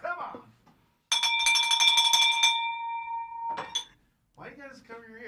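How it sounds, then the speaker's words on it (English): A loud bell rings in a live seminar setting, a sustained bright metallic clang for about two and a half seconds that then fades, with people talking before and after it. "here comes your bell"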